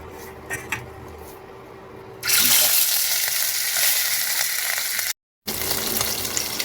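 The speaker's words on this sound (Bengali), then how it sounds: "তেল গরম হয়ে গেছে, এখন মাছগুলো আমি একে একে দিয়ে ভেজে নেব।" Fish pieces go into hot oil on a pan, and after a quiet start with faint clinks a loud steady sizzle bursts in and keeps hissing, cut by one brief silent gap.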